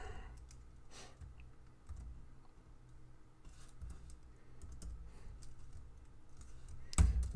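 Fast, uneven typing on a computer keyboard, close and clear key clicks in bursts, ending with a louder thump.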